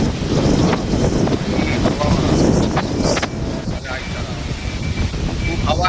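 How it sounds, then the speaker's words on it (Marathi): Strong monsoon wind buffets the microphone in loud, rumbling gusts with a roaring wash that rises and eases slightly, with faint clatter in the mix. "खूप हवा आहे मित्रांनो."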